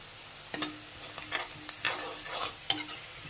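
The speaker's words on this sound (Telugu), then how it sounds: "పసుపు వాసన పోయేంత వరకు దీన్ని వేయించుకోవాలి" Spices fry with a pinch of turmeric in a pan for stuffed brinjal curry, a faint sizzle broken by several soft scraping stirs in an uneven rhythm.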